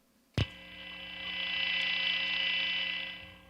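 A sharp click, then a steady electric hum from a single-coil neck pickup on an electric guitar with distortion, a bright buzzing hiss that swells and holds, noisy and continuous with no talking.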